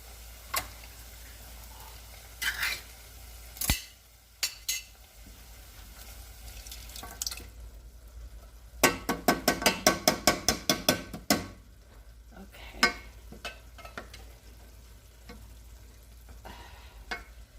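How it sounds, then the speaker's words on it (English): Canned diced tomatoes tip into a pan of softened translucent onion, first with a few scattered clanks, then a quick run of repeated scraping stirs in the middle and a softer sizzle running underneath, all fairly close. "We're going to add in our can of diced tomatoes."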